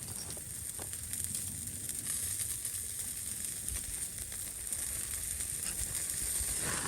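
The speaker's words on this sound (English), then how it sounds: "Whisper and Dave's, i.e. hamburger / steak. Yeah, we're cooking with gas now." Hamburger or steak sizzling on a camping gas stove, a steady, close hiss and crackle of frying that holds evenly throughout with no voices.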